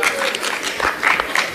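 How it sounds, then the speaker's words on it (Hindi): An audience at a mushaira claps loudly to welcome a poet to the stage, a dense, continuous burst of applause with some crowd voices mixed in. "ज़ोरदार तालियों से इस्तकबाल"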